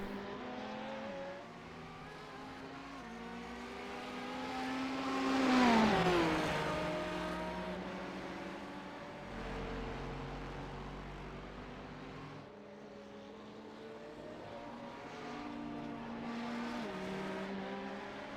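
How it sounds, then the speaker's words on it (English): Race cars, including an Aston Martin, in a sports car racing game, engines droning and shifting pitch as cars pass, one swelling louder mid-clip before fading. "that was Jacob Money just in the foreground, number 24 Aston Martin running second overall"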